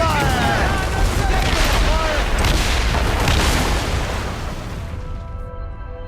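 Heavy cannon blasts boom continuously in a dense, roaring naval battle barrage in the video game Assassin's Creed Rogue Remastered, with shouting voices briefly audible at the start before the din tapers off.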